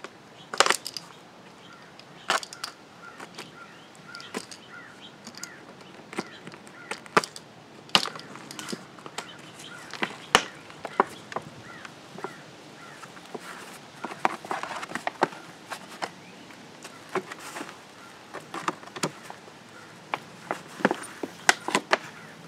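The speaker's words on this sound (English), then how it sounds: "we're going to cut that container off the sides. And you can use just a utility knife to cut through it" A utility knife cuts a plant container away from the root ball of an arborvitae, making scattered sharp clicks, snaps and plastic knocks at irregular intervals against quiet outdoor background, with no voices.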